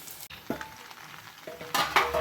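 Fermented leftover rice, palaya satham, stirred in a vessel: soft wet scraping and clinking strokes, a few sharper metallic scrapes toward the end, close and alone with no talk.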